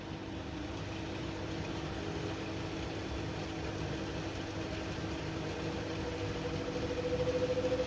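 A wood lathe spins at about 800 RPM, running a steady, even motor hum with a faint whine that rises slightly near the end, with no voices.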